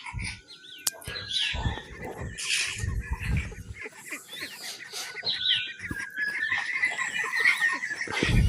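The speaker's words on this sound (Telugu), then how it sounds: "షెడ్ వేసాం కాబట్టి మన ఇంటి దగ్గర ఉన్న కోళ్ళు కూడా తీసుకొచ్చేసామండి" Chickens cluck and call repeatedly around a newly built shed on a farm, mixed with bird chirps and scattered rustling, fairly close and continuous with no talk.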